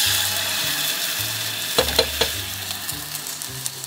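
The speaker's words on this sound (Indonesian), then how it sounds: "Kita tumis dulu bumbunya sampai wangi." Spice paste hits very hot oil and sautés with a loud, continuous sizzle. A few sharp spatula clicks and scrapes break through near the middle over a faint low hum.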